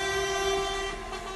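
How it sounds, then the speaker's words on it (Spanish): Truck horns blare outside a courthouse during a truckers' strike protest, a loud sustained tonal blast held steadily through the whole stretch with no talk. "a partir de este punto las bocinas de los camiones se oyeran también en la sala de vistas"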